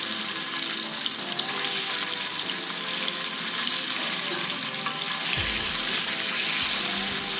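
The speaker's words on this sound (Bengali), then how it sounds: "তেলটা হালকা একটু গরম হলে এর মধ্যে এই পনিরগুলো আমি ভেজে নেব" Paneer pieces frying in hot white oil in a kadai, a steady close sizzle filling the whole stretch, with a few faint low knocks near the end.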